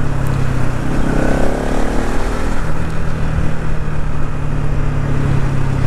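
A Bajaj Pulsar NS200 motorcycle, with its exhaust, runs loud and near, a continuous engine drone that climbs briefly in pitch before settling back to a steady throb.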